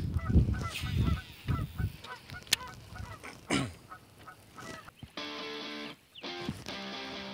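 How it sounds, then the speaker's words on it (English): Geese honk repeatedly in a loose flock near water while bass fishing, some calls near and others farther off, with scattered squawks and a steady tonal hum in the last seconds. "Oh, yeah, there's a ton of geese."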